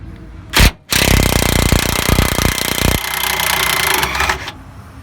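Hand or power tools work loose the gas tank skid plate underneath a 1986 Ford Ranger STX 4x4, giving a loud, dense burst of rapid rattling hammering for about two seconds that then eases into a steadier mechanical whir.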